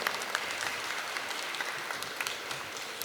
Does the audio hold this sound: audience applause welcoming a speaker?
yes